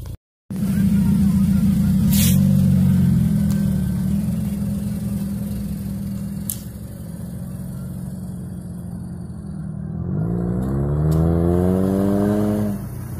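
A Nissan Cube with an aftermarket exhaust idles with a low, steady growl close to the microphone. Near the end it revs up in a rising, throaty surge.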